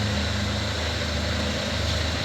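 A Vauxhall/Opel Tigra engine idles in a steady, noisy drone with a deep low rumble, close by and continuous, with no one speaking.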